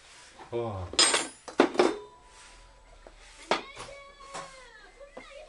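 Bone bowl and dishes handled on a table during a meal with makgeolli, several sharp clinks and clatters of crockery and cutlery, close and moderately loud, with faint voices in between.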